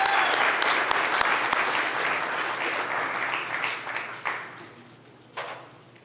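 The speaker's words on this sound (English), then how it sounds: "give them a round of applause" A crowd applauds at a university Canyon Challenge competition event, a dense, steady wash of clapping that gradually thins and fades, with a few louder isolated claps near the end.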